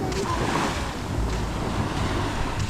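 Sea waves wash near the shore in a continuous rushing roar, with wind buffeting the microphone throughout and no speech.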